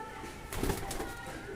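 Foreign-breed pigeons cooing at a home loft, a soft low throaty coo rising briefly over a steady background hum.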